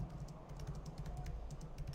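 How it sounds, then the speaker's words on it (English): Someone types on a computer keyboard, a quick, close, fairly quiet clatter of key presses with an uneven rhythm and no talking. "Peter's typing into Google, what the fuck happened in Firewatch"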